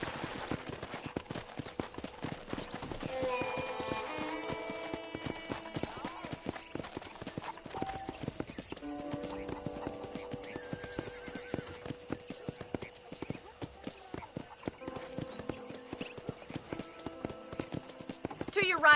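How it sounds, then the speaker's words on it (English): Hooves clip-clop steadily on horseback through a ranch in Red Dead Redemption on PS5, a rhythmic gait that runs throughout beneath game music and a spoken voice, with a horse whinnying at points. "let's see if you can still ride a horse"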